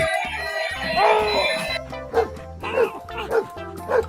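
A toy dog gives a string of loud, close electronic yapping barks and whimpers in quick bursts, with short pauses between them.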